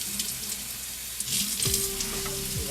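Tap water splashes and rushes into a pot to rinse out seasoning left from Jamaican-style oxtails, a close hissing stream that steadies into a fuller filling sound partway through, with no talking.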